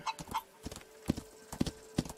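Horse hooves clip-clop in the video game Rising World, a quiet, uneven run of soft hoof thuds close by over a couple of seconds, with no talking.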